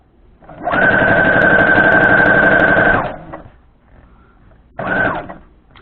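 A sewing machine runs steadily for about two seconds while stitching quilt strips together for a log cabin block, stops, then gives a second short burst; close and loud.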